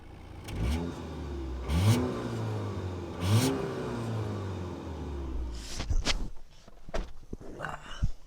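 A 2019 Audi A5 Cabriolet's engine revs up several times in rising surges, then the car pulls away with a rumbling acceleration, fairly close and loud.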